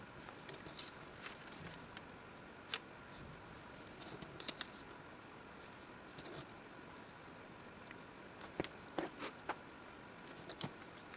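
Scissors cutting out small paper pieces for a collage, sparse soft snips and rustles spaced irregularly over a quiet hiss, close and faint.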